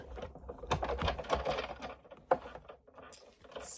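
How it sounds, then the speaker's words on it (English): A paper embossing folder feeding through a hand-cranked embossing machine, run forward and then back, gives a cluster of close, dry mechanical crunches and clicks, one sharp snap near the middle, with no talking. "And then we're just going to run it through. And I go frontwards and backwards when I emboss"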